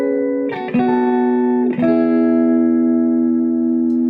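Sustained guitar notes ring out with a lush, lingering reverb tail, a few chord changes blooming and decaying smoothly, loud and alone.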